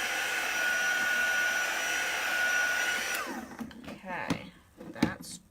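Craft heat dryer blowing on chalk paste for an Easter craft project, a loud steady whirring hum that cuts off abruptly after about three seconds, followed by a person talking and light handling noises.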